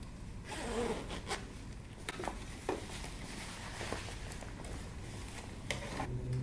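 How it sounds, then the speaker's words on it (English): A zipper being closed on a sewn jumpsuit, drawn repeatedly in short, sharp rasps, close and fairly quiet, with small handling noises in between. "And now you can go ahead and close your zipper."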